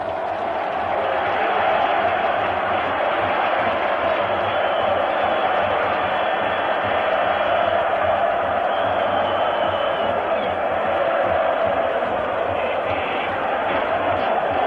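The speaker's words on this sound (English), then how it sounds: "It's going to be difficult to hear the last 3 minutes with the sound of this crowd." AS Roma home fans in a packed football stadium during a 1983-84 European Cup semi-final against Dundee United, a massive, continuous roar holding steady throughout, distant and dense.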